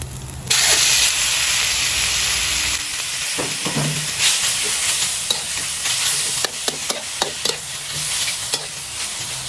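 Pork tossed with garlic in a hot pan gives a loud, steady sizzle and hiss, punctuated by sharp clacks and scrapes of a spatula stirring against the metal.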